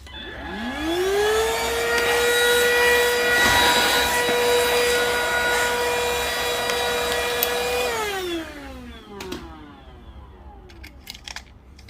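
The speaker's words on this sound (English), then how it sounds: "maybe I'll just get my vacuum. Sorry for the noise." A vacuum cleaner whirs up to a loud, steady whine, runs for several seconds, then winds down and stops, leaving a few faint clicks.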